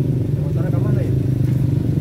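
A motorcycle on a mountain trek near Burangrang, its engine droning steadily and loud throughout with a low rumbling hum, while a voice talks over it.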